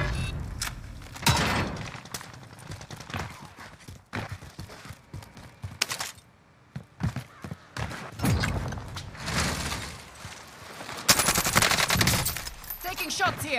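Bursts of rapid automatic gunfire and scattered single shots in a Call of Duty Warzone match on a nuked Verdansk map, loud and close in uneven clusters with brief lulls between volleys.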